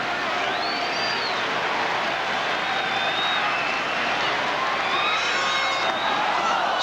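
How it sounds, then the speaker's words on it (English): Baseball crowd at a Toronto Blue Jays home game in 1987 cheering a comeback rally against the New York Yankees, a steady, distant roar with scattered whistles and whoops. "But listen to this crowd, and they've got a lot to cheer about"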